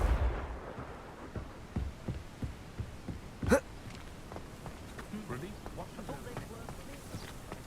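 A Confringo fire spell from Hogwarts Legacy bursts in one sharp, loud explosive blast midway, set among softer thuds, footsteps and game ambience, with a voice talking over the action.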